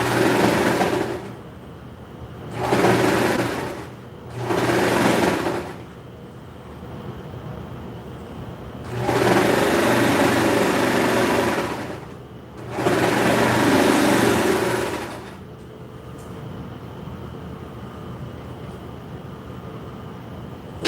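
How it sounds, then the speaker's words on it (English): A serger overlocker stitches the top edge of a skirt in loud, close, buzzing whirs, with three short bursts and then two longer runs separated by quiet pauses. "Now I'm going to serge the top of the skirt so it's nice and crisp."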